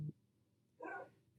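A dog named Stash gives a single bark, mid-distance and moderately loud, in an otherwise quiet indoor room.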